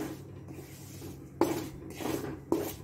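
A spoon stirs a carom-seed (ajwain) mixture in a pan over low heat, making three short scraping bursts against the metal amid a quiet background.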